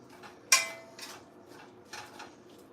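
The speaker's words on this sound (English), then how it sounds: "So I'm gonna put my tomatoes now inside the pot. And I'm gonna stir it." A few sharp metallic clinks and scrapes of a spoon in a cooking pot as tomatoes are stirred for chili soup, one crisp knock followed by softer, scattered taps in a quiet kitchen.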